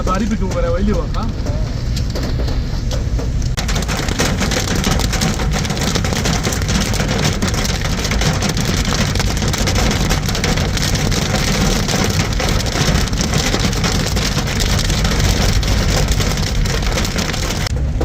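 Steady heavy rain pours across an outdoor street market in Kalam, Pakistan, a dense continuous hiss that stays loud and close throughout, with faint traffic underneath.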